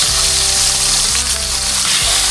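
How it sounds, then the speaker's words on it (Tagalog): Good-sized deboned milkfish (bangus) frying in a pan of hot oil, a loud, close, dense sizzle and crackle with a low rumbling bubbling underneath, no talk. "Prito muna tayo ngayon. Mga good size na bangus."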